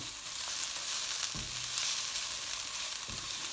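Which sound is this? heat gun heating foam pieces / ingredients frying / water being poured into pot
ingredients frying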